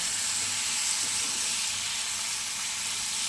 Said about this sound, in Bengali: একটু কষিয়ে নেবো মানে ভেজে নেবো